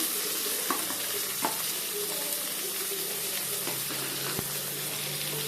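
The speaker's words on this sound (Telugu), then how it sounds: "ఆనియన్స్ గోల్డెన్ బ్రౌన్ కలర్ వచ్చేంత వరకు ఫ్రై చేసి" Chopped onions fry in oil already holding spluttered mustard and cumin seeds, for a village-style brinjal fry. A steady close sizzle carries throughout, with a few sharp pops and clicks and no talking.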